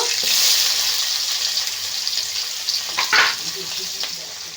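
Chopped onions dropped into hot oil with panch phoron, bursting into a loud, steady sizzle with brief louder crackles and stirring scrapes as the frying continues.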